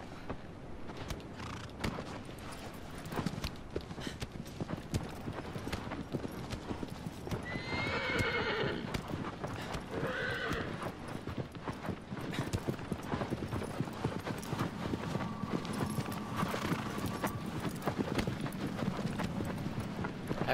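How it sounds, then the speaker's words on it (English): Horse hooves clip-clopping in the video game Shadow of the Colossus, a steady rhythmic trot running the whole time, broken twice by loud neighs and whinnies partway through, with no talk. "There you are, you dang horse."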